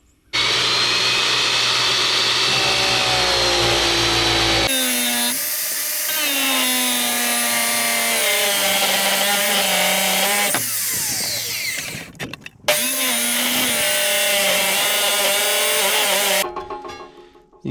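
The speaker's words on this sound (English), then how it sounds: "So I'm gonna try to cut some material away with the chop saw." A chop saw cuts metal for a homemade bale unroller, its loud, sustained whine shifting in pitch as the blade bites, broken by a few short pauses, with no talk.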